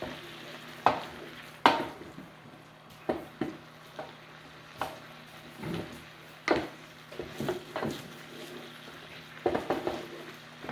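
Creamy lemon basil chicken cooks and reduces in a pan, a steady low simmer under intermittent sharp clinks and scrapes of a utensil stirring against the pan, with no talking.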